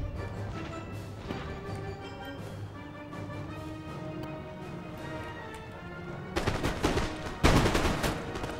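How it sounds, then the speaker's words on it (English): Empire: Total War cavalry fire their carbines: crackling volleys over a busy battlefield din, building to loud, dense bursts of musket fire near the end. "Fire their carbines."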